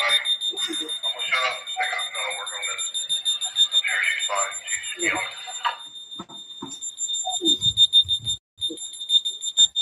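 A house alarm sounds continuously with steady high-pitched beeping tones, loud and close, while several people talk excitedly over it throughout.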